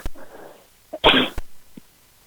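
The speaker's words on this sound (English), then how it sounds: "Sorry, I didn't mute myself before I sneezed." A single sneeze picked up on an unmuted microphone during an online board meeting, a quick breathy intake followed by one sharp burst, with a soft sound trailing after in a quiet room.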